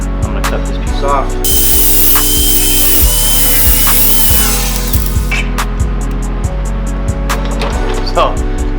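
A power tool cuts through a taped section of hose during an Evo 8 oil catch can install, a close, loud whirring drone with rhythmic stuttering pulses and a few sharp jumps.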